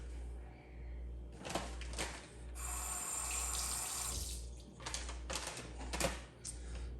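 A kitchen tap runs into the sink for a quick rinse between steps of making nachos, water splashing in bursts of rushing flow with a few knocks and clicks, close and moderately quiet with no talking.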